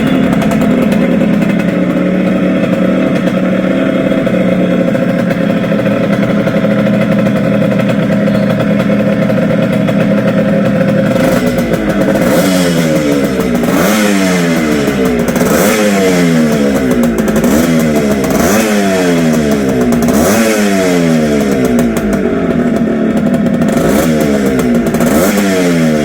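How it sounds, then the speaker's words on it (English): A Suzuki Shogun motorcycle engine idles with a steady drone, then is revved repeatedly in rising and falling bursts, loud and close throughout with no talking. "Put oil and start bike."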